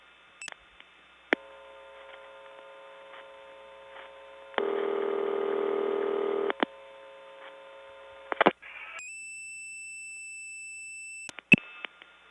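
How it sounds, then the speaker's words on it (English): A telephone ring is heard down a 1979 step-by-step tandem switching line: a steady buzzing ring tone with mains hum between rings, plus clicks and a higher multi-tone signal, all thin and line-filtered. "we did get to hear some real phones ringing"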